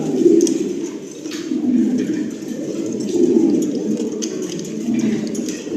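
Pigeons of improved breeds at a pigeon shop coo steadily in soft, rolling low bursts, several birds close by overlapping in a continuous murmur.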